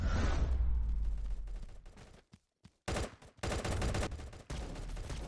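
Loud automatic gunfire from the mobile shooter Gods of Boom, a dense burst that fades, a near-silent gap, then another heavy stretch of rapid shots.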